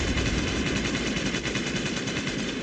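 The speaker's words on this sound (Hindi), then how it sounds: "और फिर अचानक से गोलियां चलने लगी" Dense, continuous gunfire rattles without pause, rapid automatic shots blending into a loud, close, unbroken burst.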